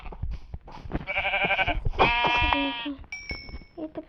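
Sheep in Minecraft bleating, with several drawn-out, nasal bleats in quick succession, loud and close, plus a short high electronic tone near the end. A person talks quietly at the start.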